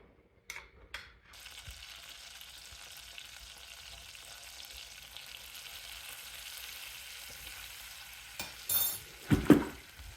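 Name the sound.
butter and flour roux stirred and cooking in a pan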